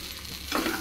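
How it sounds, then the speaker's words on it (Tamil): Boiled noodles tipped into a pan of roasted vegetables and mixed, a brief close scrape and sizzle that swells halfway through. "நூடுல்ஸை கொட்டி மிக்ஸ் பண்ணிக்கணும்."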